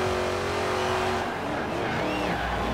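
An old International Harvester box truck drives in Forza Horizon 4, its engine note droning steadily and then shifting, with rising and falling tones suggesting revving and tire noise, loud and close with no talk.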